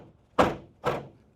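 A car door on a project Camaro swings shut twice with dull thuds about half a second apart, bouncing back each time because it has no latch.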